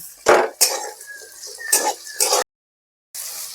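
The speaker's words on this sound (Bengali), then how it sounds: "আলুটা আমার ভাজা ভাজা হচ্ছে।" Potatoes and onions for veg pulao are stirred in a pan, with several loud metallic scrapes and clanks of a spoon against the pan, a faint sizzle beneath, and a brief dead-silent gap near the end.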